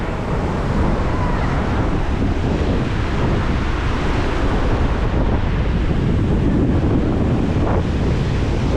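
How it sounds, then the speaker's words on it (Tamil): Strong, cool wind blowing across the seashore at Thennetty Park in Visakhapatnam, loud steady buffeting against the microphone over a constant wash of surf, with a faint voice briefly mixed in. "சில்லு சில்லு சில்லு சில்லு காற்று அடிச்சுக்கிட்டு"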